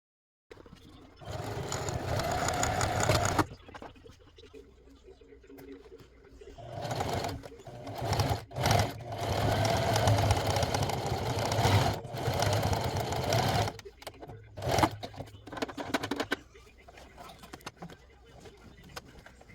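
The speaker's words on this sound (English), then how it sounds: "For this part, I'm sewing each pleat down about 2 to 3 inches." A sewing machine stitching down the pleats of a wraparound pleated skirt runs in several bursts of steady mechanical whirring, close up, separated by short pauses with quiet handling noise.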